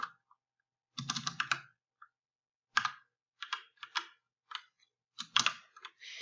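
A script tag being typed for JavaScript code on a computer keyboard: short bursts of crisp, close key clicks separated by brief pauses, with no talking.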